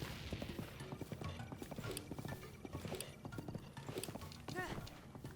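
Horse hooves galloping in the video game The Legend of Zelda: Breath of the Wild, a quick steady clip-clop rhythm under game sounds, with a voice talking over it.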